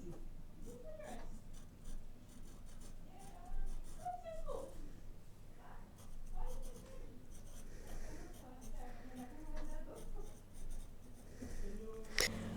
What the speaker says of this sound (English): So now I'm just going to write some text here.